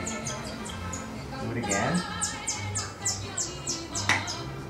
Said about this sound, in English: they've got a bird in that song